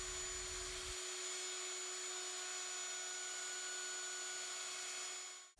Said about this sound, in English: The bit I'm using is a chamfer bit, and I'm only going to be routing the top parts of the pieces.